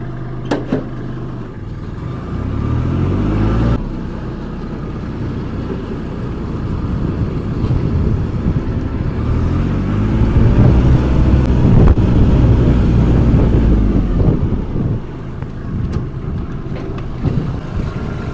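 A Kubota KL 2750 compact tractor engine rumbles steadily and loudly nearby, its pitch rising and falling as it drives along.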